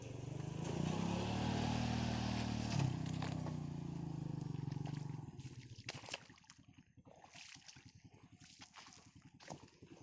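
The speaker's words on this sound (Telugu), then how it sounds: "ఒక్కడే బైక్ మీద వెళ్ళాడు." A motorcycle ridden by one rider over soft, sinking ground by a hill near the Nuzvid–Visannapeta road; the engine roars loud and close at first, then eases into a quieter, rapid pulsing putter.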